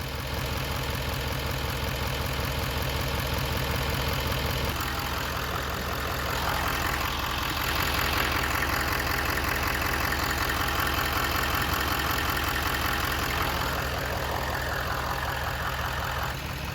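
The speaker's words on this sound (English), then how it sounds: "You guys can hear the engine changing tone." A loud, steady diesel engine drone with a rough, rattling texture; around the middle its tone shifts upward and stays raised as rail pressure is raised, continuous throughout.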